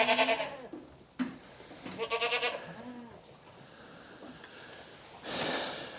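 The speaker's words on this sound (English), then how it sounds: "That's a solid little goat there." A goat bleats in a barn on a bitterly cold winter day, several wavering, nasal calls in separate bursts, close and fairly loud, with quiet pauses between them.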